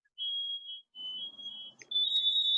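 A firefighter's alarm goes off in a series of shrill, high electronic tones: two sustained beeps separated by a short gap, then a brighter, louder tone, close and with no talking.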